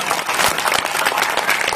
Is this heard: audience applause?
yes